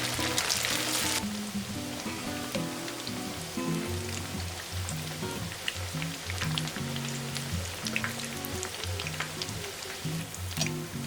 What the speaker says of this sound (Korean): 170도에서 튀겼다